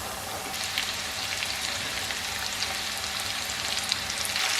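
Chicken pieces for spicy popcorn chicken frying in very hot cooking oil, a dense, loud, continuous crackling sizzle with fine popping bursts throughout and no voices.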